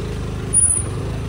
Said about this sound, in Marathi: लकी भाईने गाडी काढली.